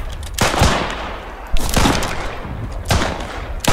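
Gunfire in the World War I shooter Beyond The Wire at Vimy Ridge comes as three loud, sharp bursts about a second and a half apart, each echoing briefly before fading, close and without talk.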